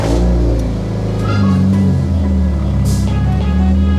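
A Kia Rio's engine turns over and settles into a loud, steady idle with a couple of revs rising and falling, heard up close with no voices over it.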